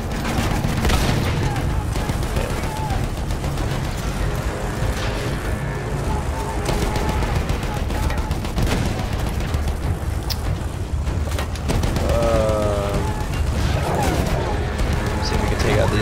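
Dense Battlefield 1 battle din of bombing and scattered gunfire, heavy booms and crashes rolling under continuous chaotic noise while a voice talks throughout.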